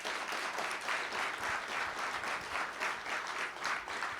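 Audience applause at a university speaker-series event honoring an ESPN anchor, a steady, moderately distant wash of many hands clapping that holds evenly for about four seconds.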